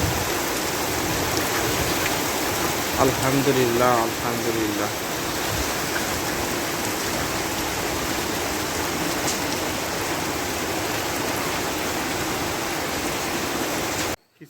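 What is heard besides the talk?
raindrops falling on taro leaves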